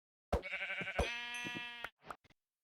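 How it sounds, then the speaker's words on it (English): A sheep in the Minecraft survival game bleats, a clear wavering baa lasting over a second, followed by a couple of short, quieter game sounds; no talking. "Sorry sheep, but I need some wool and some food."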